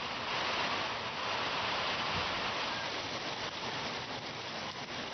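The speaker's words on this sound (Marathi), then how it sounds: "कसाल आणि कणकवली परिसरात मेघगर्जनेसह पाऊस पडला" Steady unseasonal rain with thunder over the Kasal and Kankavali area of Maharashtra, a dense, even hiss of falling water that stays loud and unbroken throughout, with no voices.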